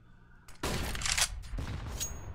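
Rifle fire from an AK-47 with a Frost skin in a CS:GO match, one sustained burst of close, loud gunfire after a brief pause, alongside other game sounds.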